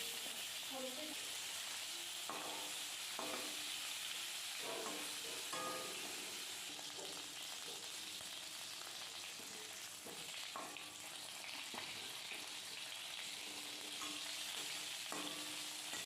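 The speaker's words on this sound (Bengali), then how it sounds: "এবারে আমি মাছগুলো এক এক করে ভেজে নিচ্ছি মাছটা বেশ হালকা লাল লাল মতো ভাজা হবে" Pieces of rohu fish fry one by one in hot oil with a constant, soft hiss. Faint scrapes and taps from turning the fish come through now and then.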